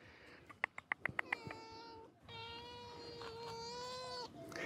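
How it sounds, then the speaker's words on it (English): A cat meows near a small cat house by some trees outdoors, giving several short clicky calls and then two drawn-out, nasal meows, close and fairly loud against a quiet background. "There is one cat."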